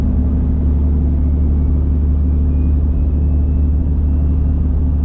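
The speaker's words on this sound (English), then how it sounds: "it's got that deep Cummins rumble finally" A compound-turbo Cummins diesel truck engine idles with a deep, steady low rumble, loud and close, constant throughout with no breaks.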